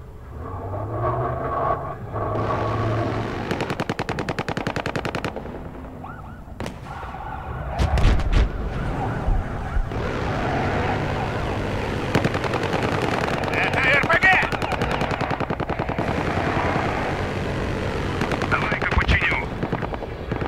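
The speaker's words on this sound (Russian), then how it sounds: "Джип с тяжелой пушкой!" A jeep-mounted heavy gun fires long rapid bursts in the video game Battlefield Hardline, loud and close, with thuds, rumbling and game voices mixed in throughout.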